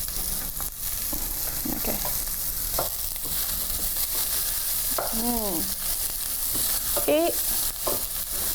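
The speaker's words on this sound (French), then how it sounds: "C'est ça que je vais entendre. L'oignon et l'ail." Onion and garlic sizzle steadily in a frying pan, a constant hiss with scattered stirring scrapes, while a voice speaks a few short words and brief tonal squeaks sound over it.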